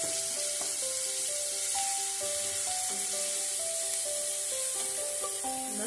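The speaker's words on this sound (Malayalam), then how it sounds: "നമുക്ക് ചതച്ച് വെച്ചിരിക്കുന്ന ഈ ഉള്ളി, വെളുത്തുള്ളി, പുളി എല്ലാം കൂടെ ചേർത്ത് നന്നായിട്ടൊന്ന് വഴറ്റിയെടുക്കാം." Crushed onion, garlic and tamarind sautéing in hot oil give a steady close sizzle, overlaid by sustained, shifting musical tones like background music throughout.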